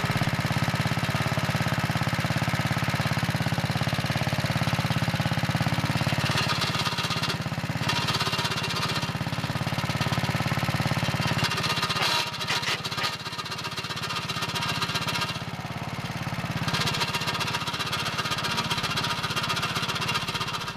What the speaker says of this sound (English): That's the belt chattering when I push in the clutch.